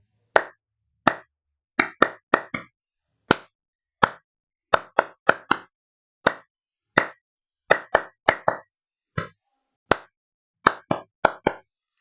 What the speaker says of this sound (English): We can clap our hands like.